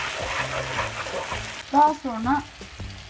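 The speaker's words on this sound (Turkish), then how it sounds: "Soğanlarımız sotelendikten sonra domateslerimizi ekleyip karıştırıyoruz." Onions and tomatoes sauté and get stirred in a pan for a Turkish fresh black-eyed pea dish, a steady sizzle with scraping strokes that sits under a man's speech at first and then under a woman's brief words near the end.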